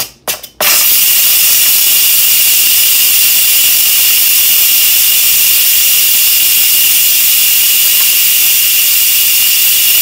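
A pressure cooker vents its steam in a loud, steady hiss that runs the whole time without letup, after a few brief clicks at the start.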